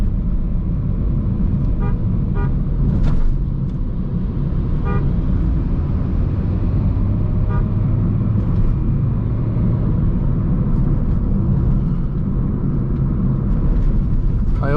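A Toyota Corolla cruises along a road while overtaking, its steady engine and road rumble filling the scene, with a few short horn toots sounding in the background.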